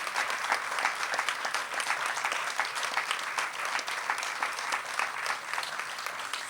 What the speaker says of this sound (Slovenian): Thank you very much, ladies and gentlemen, for this welcoming round of applause.